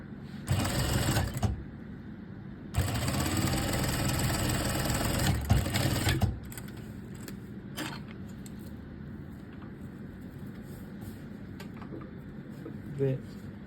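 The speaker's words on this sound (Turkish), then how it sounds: "Fermar yerini bırakıp arka ortadan birleştiriyorum." A sewing machine stitches the back center seam of a strapless dress, running loud and close in two bursts of steady whirring, then falling quiet with faint handling sounds afterward.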